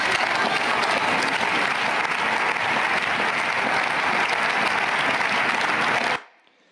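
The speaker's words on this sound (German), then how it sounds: "Applaus" Sustained, dense clapping from a conference audience at a hacker event, loud and even for about six seconds before cutting off abruptly into near silence.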